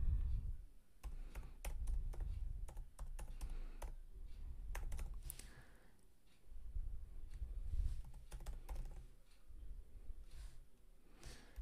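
JavaScript code being typed on a computer keyboard: quick, irregular runs of light key clicks over a low room hum, close and fairly quiet.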